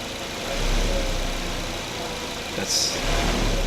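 A Suzuki Aerio 2.3L engine with a bad motor mount idles with a low, uneven rumble and a slight shudder, steady and close, with a small rise partway through.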